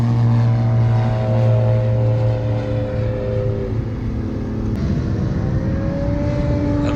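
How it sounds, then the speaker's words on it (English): A Yee Haw 7 model airplane's propeller engine runs at a steady, loud drone on the runway, then the pitch shifts and rises as it powers up for takeoff, close and alone. "he's about ready to taxi onto the runway here and take off"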